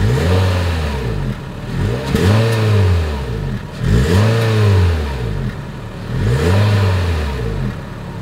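A 2022 Honda HR-V's exhaust is heard up close, revving repeatedly in four or five rising and falling sweeps, each climbing and then dropping back toward idle, with no talking.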